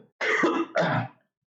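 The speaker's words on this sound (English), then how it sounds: "I'm just like coughing like crazy." A person coughs and clears their throat in two harsh, close bursts, each lasting about a third of a second, followed by silence.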